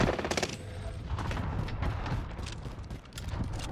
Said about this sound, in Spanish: este le está disparando a alguien